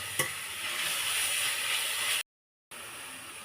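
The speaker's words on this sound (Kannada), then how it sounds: "ಈಗ ಮೆಂತ್ಯ ಸೊಪ್ಪು ಹಾಕ್ಕೊಂಡು ಕಲಿಸ್ಕೊಬೇಕು" Fenugreek leaves stirred into a hot pan for menthya palya give a steady sizzling hiss with faint scraping, broken by a brief silent gap before the frying resumes.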